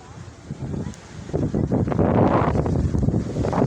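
Steady gusty wind sweeping through a jackfruit tree, a broad rustling roar of leaves that swells louder midway and stays strong to the end.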